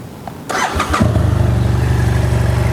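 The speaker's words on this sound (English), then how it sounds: "Let's start it up so you guys can hear that exhaust." A BMW F700GS motorcycle engine cranks and fires up at close range, catching after a brief starter whir and settling into a steady, throbbing idle through the exhaust.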